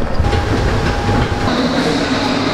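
A London train rumbles loudly and close by, with a steady clickety-clack of wheels over rails, a rushing rattle of carriages and a thin whine running through it.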